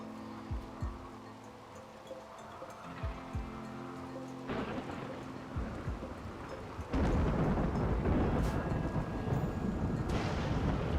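Thunderstorm with lightning in the colony-building game Rimworld: steady rainfall with low rumbling thunder rolls and sharp cracks, swelling into a louder, denser downpour partway through, with no talking.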